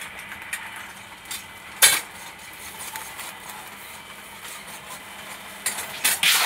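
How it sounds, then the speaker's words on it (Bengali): Puffed rice (muri) made from Pir Badsha brand rice being fried in a pan. A steady sizzle runs under scattered scraping and clinking stirring strokes, with a few louder bursts. "এই মুড়িটা ভাজা আপাতত চলছে"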